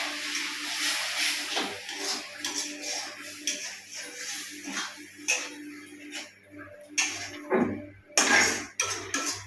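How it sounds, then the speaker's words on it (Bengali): Metal lid set down on a cooking pot of Bengali goat brain posto curry with poppy seed paste water, several light clinks and clatters amid quiet kitchen hiss. "এই পোস্ত বাটা জলটা দিয়ে আমি ঢাকা দিয়ে দিচ্ছি।"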